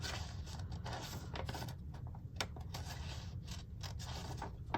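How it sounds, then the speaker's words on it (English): Scissors snip and scrape through paper in quick, irregular cuts, close up and fairly quiet, with soft rustling between strokes. "Probably should use my better scissors."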